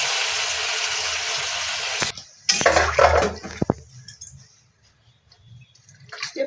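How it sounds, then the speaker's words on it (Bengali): Water is poured into a cooking pot of washed rice and lentils added to sautéed vegetables with cumin and coriander powder: a steady rushing splash for about two seconds, then a few clanks of utensils against the pot. "পরিমাণ মতন জল দিয়ে দিলাম।"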